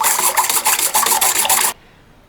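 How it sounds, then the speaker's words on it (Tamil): Vigorous rasping churn of buttermilk, dense and continuous with rhythmic surges, close by, then it stops abruptly leaving near silence. "மோர் கடைஞ்சி எடுத்துட்டேன்."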